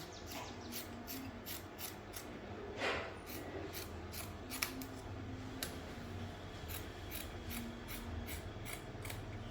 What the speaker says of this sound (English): So cut another sleeve.